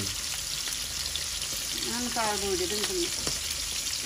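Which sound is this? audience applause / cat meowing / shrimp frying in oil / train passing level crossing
shrimp frying in oil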